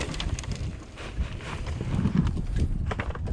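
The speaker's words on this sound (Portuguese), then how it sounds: "começo a peneirar também o esterco de cavalo" Horse manure shaken through a garden sieve in an organic vegetable bed: gritty, rustling scrapes in irregular bursts, close up, with some wind buffeting the microphone.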